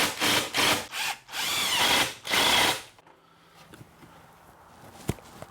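Power drill driving 2.5-inch deck screws into wood, three loud, close whirring bursts with short gaps, then quieter handling clicks and taps.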